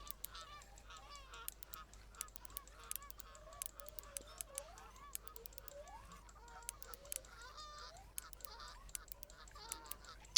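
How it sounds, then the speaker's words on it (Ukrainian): Faint honking and quacking duck calls in the fishing video game Fishing Planet, scattered throughout, with sharp clicking noises over a steady low hum; distant and quiet. "Качки крякають."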